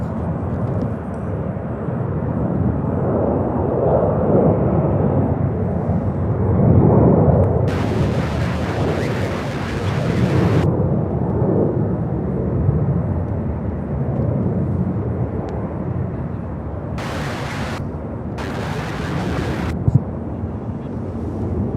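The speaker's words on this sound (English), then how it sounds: "We have a A300 taking off from the other side." An Airbus A300 takes off at Louisville International Airport, its jet engines giving a steady, distant roar that swells and fades over about twenty seconds, with no one talking.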